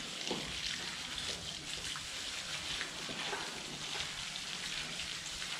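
Water sprinkled over soil while repotting a plant into fresh growing medium, a continuous soft pattering trickle, close and fairly steady.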